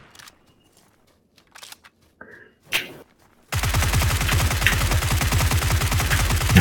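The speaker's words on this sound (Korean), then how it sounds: "야, 옆에 총소리 들린다." Gunfire in a video game: a few faint scattered clicks and short bursts, then loud, sustained rapid automatic fire with a steady pulsing rhythm for the second half.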